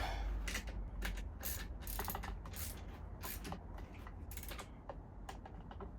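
Nut and spring washer being tightened onto an inverter with a ratchet, giving a close series of quick clicking ratchet strokes in irregular bursts over a low background hum.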